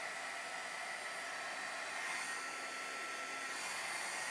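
A hair dryer blows steadily on a watercolor painting, a continuous close, loud whooshing roar of air that holds even for several seconds with no talking.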